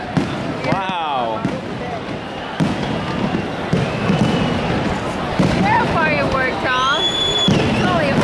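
Fireworks burst over Venice, heard from a canal boat as a series of booming thuds and whistling rising streaks at irregular intervals, with people talking and exclaiming throughout.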